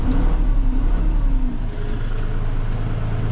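Kubota Grand L tractor engine running loud and steady with a low rumble, its pitch rising briefly early on as the throttle is advanced, then settling into a constant drone.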